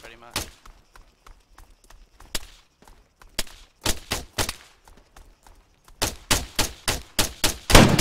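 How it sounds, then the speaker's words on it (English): Gunfire from another player in the Arma 3 video game, scattered bursts of sharp shots with louder rapid volleys toward the end, heard between bits of speech. "I hear him shooting."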